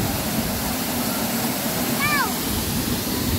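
Tousuvan waterfall in Magpet, Cotabato gives a steady, close rushing roar of falling water that fills the whole clip, with a brief bird-like chirp rising over it midway.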